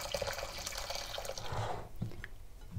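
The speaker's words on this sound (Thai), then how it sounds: "อย่างแรกเราก็ใส่น้ำต้มไปใช้น้ำธรรมดาก็ได้ค่ะ" Tap water runs and splashes into a pot on the way to boiling peeled beetroot, a steady close pour that thins out toward the end into a few drips and small knocks.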